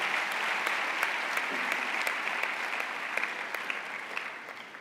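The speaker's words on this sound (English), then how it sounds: "Please give yourselves a round of applause for being here." A large crowd of new university students at an official campus opening claps in a sustained, even round of applause, many hands blending into a steady wash that stays level and slightly distant throughout, without speech.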